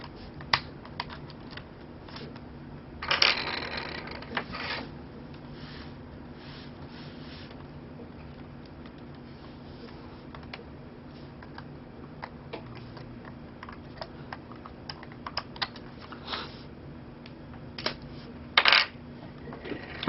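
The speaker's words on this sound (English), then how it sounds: "Alright, let's pop this thing out. This wireless card out." Wireless card being popped out of a Sony Vaio laptop during a ribbon cable repair: a few small plastic clicks and snaps over a low steady hum, with a sharper cluster of clicks near the end.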